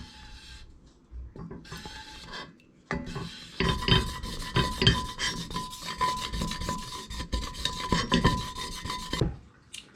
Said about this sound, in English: let's give it a little scrape.